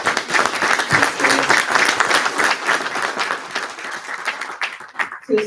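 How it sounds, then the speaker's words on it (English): A dense, loud round of clapping from an audience at a county office of education candidate forum, sustained and steady before quickly tapering off at the end. "let's give our candidates a round of applause."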